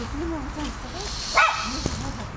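A dog barks once, a short sharp yap, near the middle while a person talks steadily throughout.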